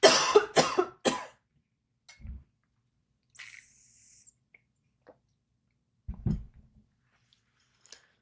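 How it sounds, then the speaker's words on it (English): A person coughs three times in quick succession, loud and close, followed by quiet pauses with a few faint mouth and throat sounds and another soft cough later. "Hang on, I'm going to cough."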